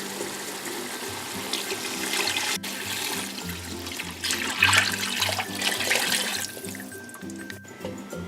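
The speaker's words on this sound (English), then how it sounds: "I'm going to add a full jug of water." A full jug of water splashes and gurgles steadily into a cooking pot for several seconds while making haleem, with a low rumbling hum underneath and a brief louder gush midway.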